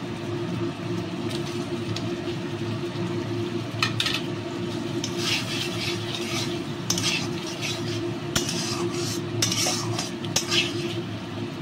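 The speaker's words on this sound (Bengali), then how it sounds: "এবার আমি পনিরটা দিয়ে নিচ্ছি।" Paneer is stirred into a sautéed spice masala in a pan, with repeated metal spoon scrapes and clinks against the pot over a low, steady sizzle, close up and without talking.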